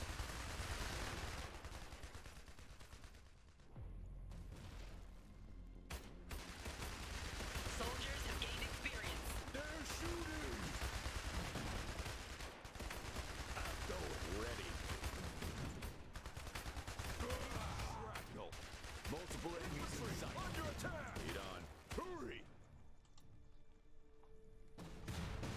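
Rapid bursts of gunfire and machine-gun fire crackle through a battle in the strategy video game Iron Harvest, a steady loud barrage mixed with explosions and game effects, with brief voiced unit lines among it.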